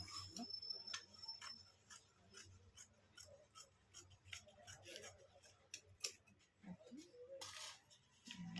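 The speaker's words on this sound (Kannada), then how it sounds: "ಮತ್ತೆ ಇವಾಗ ಇದನ್ನು ಬ್ಯಾಕ್ ಕಟ್ ಮಾಡ್ಕೊಳ್ಳೋಣ" Scissors snip through a paper blouse pattern as the back piece is cut, a string of quiet, close clicks and crisp cuts repeating irregularly throughout.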